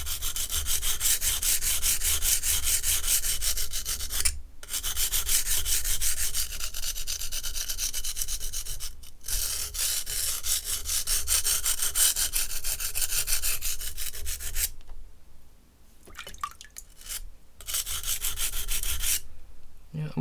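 A knife blade with a broken tip is ground on a sharpening stone in repeated long rasping strokes, broken by short pauses and a few scattered scrapes near the end, close and alone.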